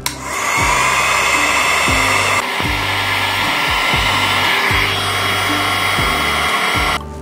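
A hot-air tool blows steadily while warming a candle container for a lavender candle, a continuous loud whooshing drone with a faint repeating low thump, running alone throughout before cutting off at the end.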